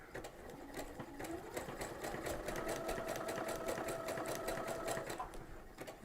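A sewing machine with a fringe looper foot stitches small loops, its steady rapid needle hammering running continuously and close for several seconds with no talk.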